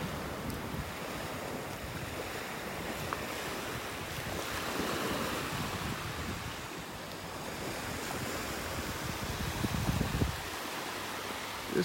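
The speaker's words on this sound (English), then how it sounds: "Just little waves breaking on the shore here." Small waves break gently on a beach shore in North Naples, Florida, a steady wash of surf with some wind rumble against the microphone, continuous through the clip with no talking.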